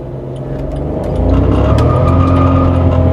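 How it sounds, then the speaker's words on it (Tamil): A manual VW Polo TSI with the 1.0 L engine launches hard with wheel spin. The engine note rises and swells loudly partway through, then holds a strong, steady roar close to the microphone. "wow, wheel ஸ்பின்ங்க"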